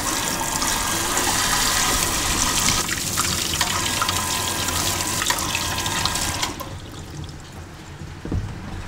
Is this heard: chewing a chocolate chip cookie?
no